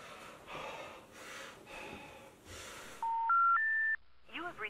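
A telephone is used in an attempt to call the police. Heavy, ragged breathing and gasps come first, then a loud sequence of three steady electronic tones rising in pitch, followed by a brief voice.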